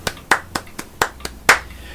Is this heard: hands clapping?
yes